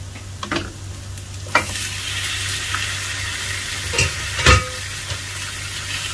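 Mutton chunks sizzle and fry with browned onions in a karahi, a steady crackling hiss broken by a few louder bursts and scrapes as the meat is stirred, close and with no talk.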